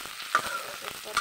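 Onions frying in a pan for khichdi, a soft continuous sizzle with light stirring scrapes, close and alone.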